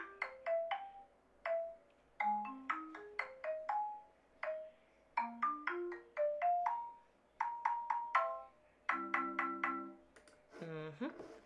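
The Super Mario Bros. theme plays on Chrome Music Lab's Song Maker as bright, plinky synthetic notes in quick bouncy phrases with short rising bass runs, ending on a held chord and a fast flourish; no one speaks over it.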